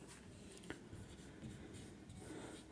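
Steady scratching of writing on a board during a Hindi history lesson on the Indus Valley Civilization, a continuous close scraping with one sharper tap, faint and without talk.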